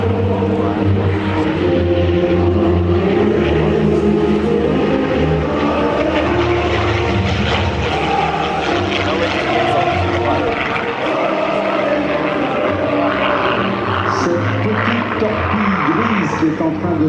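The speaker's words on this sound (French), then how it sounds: "en train de prendre de l'altitude en grimpant dans le ciel dans le mugissement d'un moteur de 12 cylindres en V de 1200 chevaux" A Yakovlev aircraft with a 1200 hp V12 engine climbs, its loud, continuous propeller-engine roar holding steady throughout while someone talks over it.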